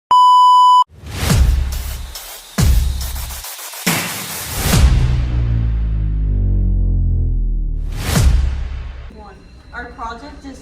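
A loud electronic alarm beeps, opening with a sustained tone followed by several sharp bursts that ring out and decay, then a brief voice at the end.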